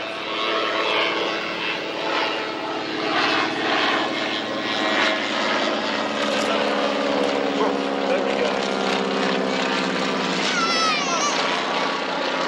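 A Broussard propeller aircraft at the 1994 Woodford Airshow drones loudly and steadily overhead, its engine pitch shifting slightly as it holds its climb, with a commentator talking over the noise.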